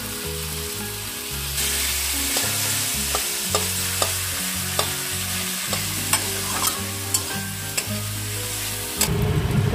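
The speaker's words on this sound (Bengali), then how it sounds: "আলুর সঙ্গে মশলাটাকে ভালো মতন কষিয়ে নিতে হবে" Potatoes sizzle in a pan with spices, frying steadily while a utensil scrapes and taps against the pan in irregular strokes; after a quiet start, the sizzle stays close and constant, with a louder burst at the end.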